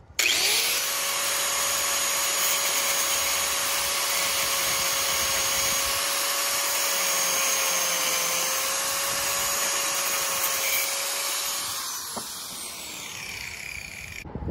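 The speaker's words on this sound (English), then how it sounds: "Okay, I'm using a bigger grinder." Large angle grinder cutting into a BMW E36 M3 side skirt of plastic with rubber moulding, a loud steady high-pitched whine held for about eleven seconds before spinning down, with no talking.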